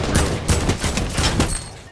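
A combat shotgun fires in a video game: four or five heavy, booming shots in quick succession over about two seconds, loud and close with no talking.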